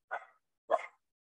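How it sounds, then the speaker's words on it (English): A pet dog barks indoors, two short sharp barks about half a second apart, close and loud against silence. "My dog is freaking out."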